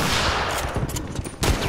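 Rifle gunfire in the shooter game Factions, loud rapid shots in a dense, continuous volley with a few sharper cracks toward the end.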